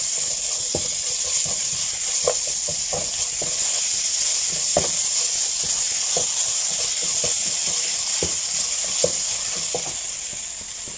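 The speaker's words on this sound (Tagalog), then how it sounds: "Tapos haluin." Tomato paste fried in a pan and stirred, with a loud steady sizzle and hiss throughout and repeated spatula scrapes and taps clicking irregularly over it, close and without speech.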